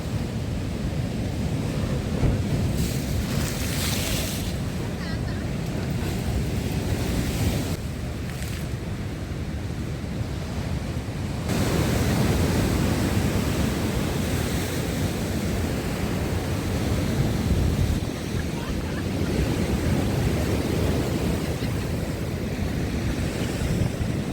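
Stormy sea off Odesa, waves surging and crashing against the shore in continuous broad roaring washes, loud and close, with wind buffeting the microphone.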